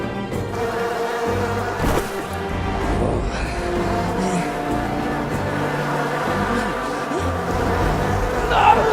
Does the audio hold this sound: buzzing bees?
yes